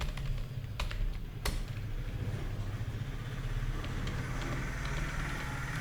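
Computer keys are tapped in quick, irregular bursts while text is typed into Notepad. Soft clicks sit over a low, constant background rumble.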